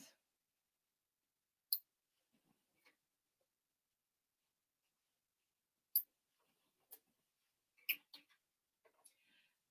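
Scissors trim around embroidery on tulle, giving a few sparse, quiet, crisp snips spread across near silence, with a small cluster of clicks toward the end.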